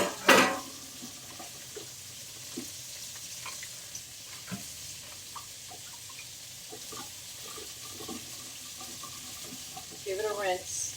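Tap water runs over a raw sirloin steak in a kitchen sink, a steady soft hiss with scattered small clatters and a louder splash at the start and end.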